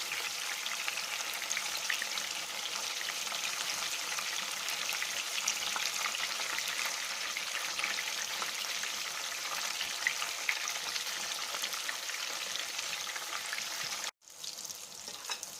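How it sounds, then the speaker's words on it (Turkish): Eggplant and zucchini sizzle and crackle steadily in hot oil, a close, continuous frying hiss that cuts out abruptly near the end. "Hepsini kızartacağım."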